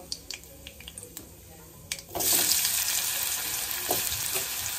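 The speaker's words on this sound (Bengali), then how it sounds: "তেলটা গরম হয়ে গেছে, তেলের মধ্যে আমি অল্প কালো জিরে দিয়ে দেব। দিয়ে এই পিস করে কেটে রাখা আলুটা প্রথমে দিয়ে দেব।" Cut potatoes with nigella seeds go into hot oil, and a few light clinks and taps give way to a loud, continuous sizzle of frying that fills the rest of the clip close up.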